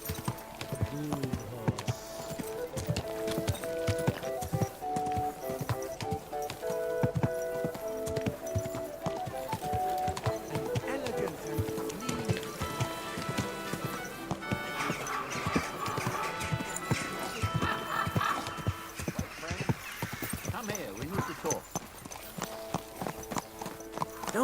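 Steady clip-clop of horse hooves at a walking pace in the video game Kingdom Come: Deliverance II, clear and close, under a layer of game music.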